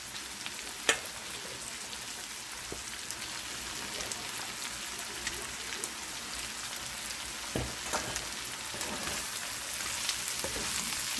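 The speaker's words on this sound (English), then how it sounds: "In goes my chopped okra." Chopped okra sizzles in a pan of hot oil with a constant dense crackle. An occasional louder pop or stir-like scrape rises above the hiss, and no one speaks.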